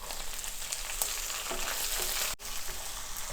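Finely chopped small shallots fry in a pan for a beef ularthiyathu, giving a steady, close, loud sizzle with faint stirring clicks and a brief break near the end, with no talking.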